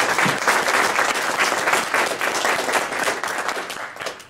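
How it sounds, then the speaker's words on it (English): A seminar audience applauds the exhibitors, a full room of clapping that swells quickly and stays thick and even before tapering slightly at the end. "How about a round of applause?"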